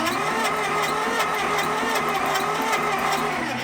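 An engine unstarted for 12 years, blowing compression into the oil pan, cranks and turns over continuously with a loud, rough mechanical churn that never quite catches, steady throughout.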